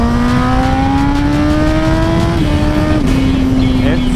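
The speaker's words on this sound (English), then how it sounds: "it has got a beautiful TOCE exhaust, which you can probably hear at the moment." A Yamaha R1 motorcycle with a TOCE exhaust revs loud and close, a sustained high engine note that climbs steadily, then dips and steps down near the end.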